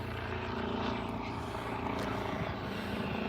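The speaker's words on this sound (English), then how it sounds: "that's the chopper right there. Let's watch him come in. That's a Lifeline chopper" A Lifeline medical helicopter coming in, its steady rotor and engine roar filling the air continuously at fairly close range, loud and unbroken.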